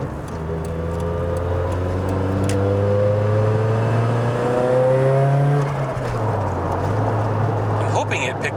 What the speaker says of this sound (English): I'm hoping it picked that up because it's definitely spooling up real nicely.